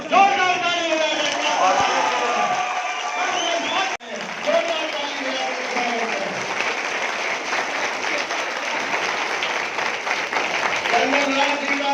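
An audience at a political welcome event claps loudly and continuously while someone speaks over the sustained applause, with a brief break partway through.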